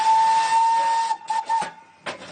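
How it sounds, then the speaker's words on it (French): A steam locomotive more than a century old lets out a long, loud whistle that breaks off into several short hissing bursts of steam, heard close with no voices. "quoi de mieux qu'un retour en train? Celui-ci est à vapeur, il a plus d'1 siècle."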